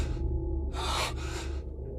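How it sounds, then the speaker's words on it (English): Heavy breathing from the Silent Hill 2 player character, two drawn-out airy breaths close up, the second a strong inhale-like gasp, over a low steady background hum. "Is that breathing sound new?"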